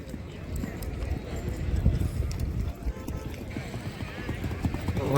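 Racing horses gallop in a rewal chal race at Vakaner with about 18 competitors, their hooves drumming in a quick, continuous clip-clop beneath loud commentator talk and crowd voices.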